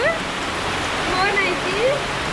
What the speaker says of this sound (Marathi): पाऊस भरपूर आहे